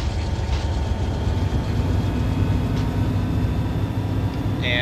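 An empty coal freight train led by diesel locomotives, including an SD40-2, rumbles past as a loud, continuous low drone with steady rail noise and faint higher squeals, no voices.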